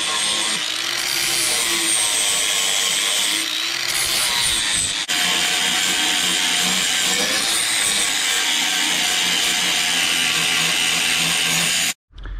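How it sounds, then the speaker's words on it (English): Flap wheel on an angle grinder sanding the freshly cut edges of a DIY metal transducer shield, a continuous loud abrasive whine and rasp running steadily for about twelve seconds, then cutting off abruptly near the end. "Now I'm gonna take a flapper wheel and clean it all up before I cut myself."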